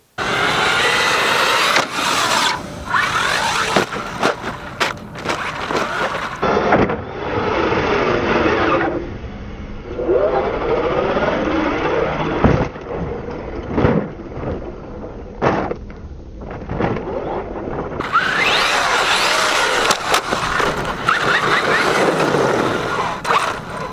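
A Traxxas Xmaxx 8s RC truck speeds at full throttle toward a ramp, its electric drivetrain whining loudly and surging, dropping away mid-run as it leaves the ground, then screaming again on landing.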